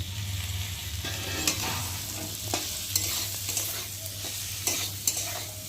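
Spices with ginger paste and chopped tomato sauté in a pan for a vegetarian dish. A soft continuous sizzle sits under intermittent clinks and scrapes of a stirring utensil, with no talking.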